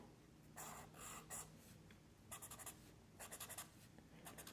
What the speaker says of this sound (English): You're going to start with your yellow highlighter, and you're going to find on your paper chart all of your heart symbols, and you're going to highlight them